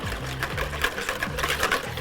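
A whisk beats eggs, vegetable oil and buttermilk together in a bowl, producing a quick, steady rhythmic clatter close by, with no talk.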